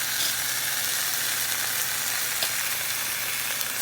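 Bacon fries in a pan with a constant, even sizzle and fine crackle close by, without any voices or other sounds.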